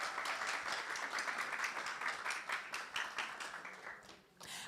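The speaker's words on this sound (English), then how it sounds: "Give her a round of applause." An audience at a youth forum applauds a panelist with steady, dense clapping that holds for several seconds, then thins and briefly swells again at the end.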